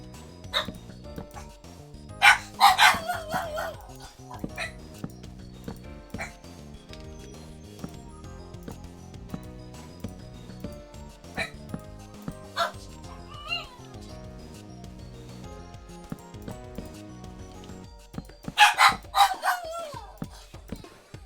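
Dogs bark in a couple of short clustered bursts near the start and again near the end, with sparse single yips between, set against a continuous low musical or ambient bed.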